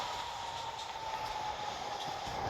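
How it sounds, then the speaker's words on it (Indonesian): A train in the Roblox railway game Incorail, reversing: a steady, fairly loud rail rumble with a sustained whine, continuous throughout and no talk over it. "Nah ini kereta siapa ini reversing ini?"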